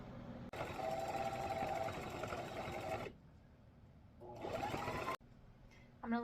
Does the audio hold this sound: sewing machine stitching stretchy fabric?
yes